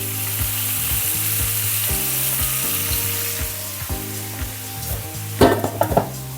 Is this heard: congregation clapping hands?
no